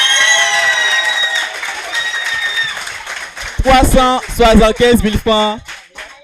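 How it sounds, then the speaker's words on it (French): Applause and cheering from an audience at a quiz contest between two lycée teams, a loud burst of clapping and shouts that fades out under someone speaking into a microphone. "On applaudit pour ça."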